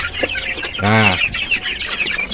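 Chickens kept indoors in a coop during rain cluck loudly and close by, with one bright harmonic call standing out in the middle, and a voice says a single short word.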